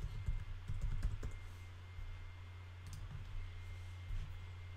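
Username and password typed on a computer keyboard, a quick close burst of key clicks at first, then sparser taps over a low steady electrical hum.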